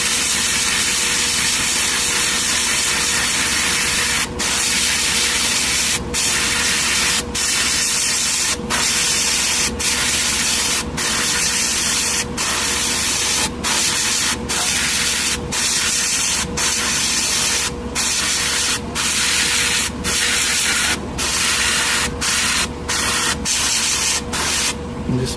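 A Harder & Steenbeck Infinity CR+ airbrush sprays a mist coat, giving a steady, close, loud airy hiss that runs throughout, with frequent brief gaps where the trigger is released.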